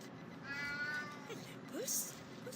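A cat meows several times in the Alice: Madness Returns video game, thin rising cries at close range, with a few short chirps mixed in over soft ambient background.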